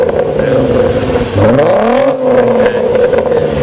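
Volkswagen Golf R engine, linked to the VR6 lineage, revving with a rising and falling tone over a steady loud drone, one clear swell in the middle of the rev.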